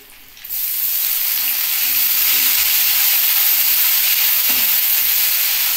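Cumin seeds and chopped ginger hit hot oil for moong dal and start a loud, steady frying sizzle that bursts in suddenly and holds as a broad continuous hiss, close to the pan.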